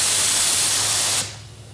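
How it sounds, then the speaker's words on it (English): A 3M Accuspray primer spray gun fires onto a test panel from about ten inches, a loud close steady hiss of air and paint that cuts off near the end and leaves faint residual air. "I test how they like their primer gun to spray."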